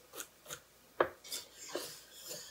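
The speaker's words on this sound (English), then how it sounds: "I'm just gonna get a little spoon here so we can stir this" A small spoon stirs a pot of minestrone, giving several separate soft scrapes and clinks against the pot at an uneven pace, close and fairly quiet, with one sharper knock in the middle.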